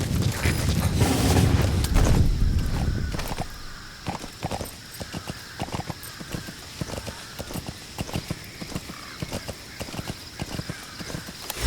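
Horse hooves clip-clop in a steady, even rhythm after a loud rushing burst at the start, continuing at a moderate distance, in the video game Metal Gear Solid V: The Phantom Pain.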